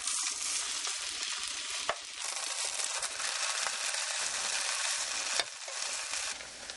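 Shredded potato hash browns fry steadily in a hot pan, a continuous loud crackling sizzle with a couple of faint clicks and no voices.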